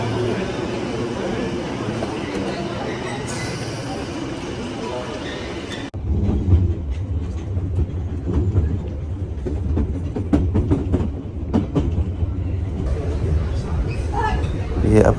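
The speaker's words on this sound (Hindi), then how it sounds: "ये आ गई है जी ट्रेन" A London Underground tube train pulls into a station near Heathrow, its rumble and rattling rising to a sustained, loud roar as someone talks over the noise.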